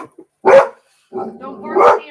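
A dog barking up close in a home, one sharp bark followed after a pause by a longer whining, yowling bark, loud against otherwise quiet surroundings.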